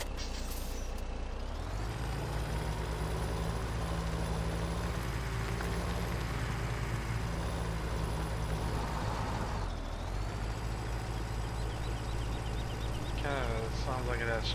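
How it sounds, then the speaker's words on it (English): Freightliner truck in Farming Simulator 17, towing a manure trailer: a steady, loud engine drone with a tractor-like character, sharp air-brake hisses near the start and around the ten-second mark, and short rhythmic beeps at the end. "Sounds like it has tractor sounds to it."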